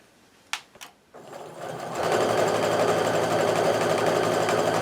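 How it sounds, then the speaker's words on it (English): A sewing machine stitches pink quilt fabric pieces together: a couple of soft clicks, then the motor starts and runs at a steady, close, loud hum alone. "I'm going to sew that to my medium pink."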